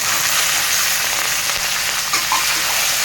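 Onions, green chillies and curry leaves fry loudly in a pan for puffed-rice upma, a continuous close sizzle with faint stirring scrapes and no talking.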